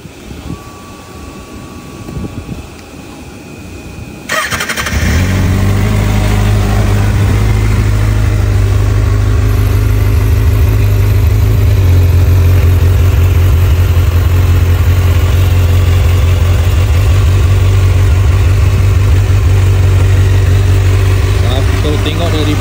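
A Kawasaki Ninja ZX-6R sport motorcycle engine cranks and catches on a cold start, then settles into a loud, steady idle that runs on close by with a slight change in pitch partway through.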